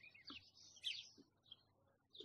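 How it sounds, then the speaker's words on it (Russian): Small birds chirp in short, faint bursts around a shady village garden, a few scattered tweets spread over a couple of seconds with quiet pauses between them and soft background noise. "Птички вот поют."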